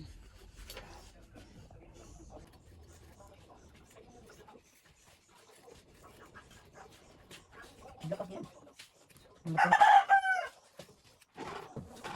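A rooster crows once, loud and fairly close, near the end, after a stretch of quiet background with faint voices and scattered small sounds.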